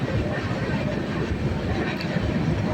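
The Deccan Express runs fast along the tracks, a loud dense rumble and rattle of wheels and carriages heard steadily from close by.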